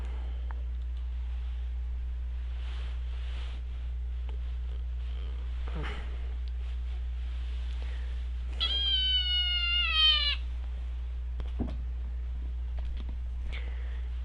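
A pet cat lets out a single rising screech lasting about two seconds, loud and close over a steady low hum, with a few faint knocks around it.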